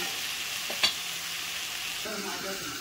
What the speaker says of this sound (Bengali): এবার আমি ঢাকনাটা খুলে আবারও নেড়ে দেবো।